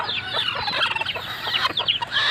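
A brooding hen sitting on her eggs clucks close by in quick, busy, overlapping bursts, fairly loud and continuous with no talk over it.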